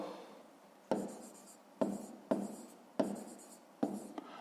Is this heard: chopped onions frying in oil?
no